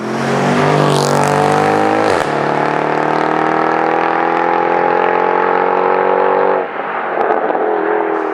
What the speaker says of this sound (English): It has such a fast revving V8